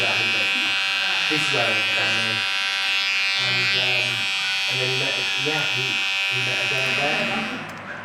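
Electric trimmer buzzing steadily as a barber marks out a client's neckline, the close, constant whine running under someone talking throughout.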